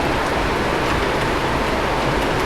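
Heavy rain pours down steadily at Guptkashi in the mountains, a dense, unbroken hiss of drops striking nearby surfaces, loud and constant with no voices over it.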